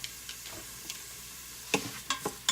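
Rinsed jasmine rice sears in the pot of a quick cooker while being stirred, a faint low sizzle broken by a few scattered scrapes and then a cluster of louder spoon strokes near the end, close and without speech.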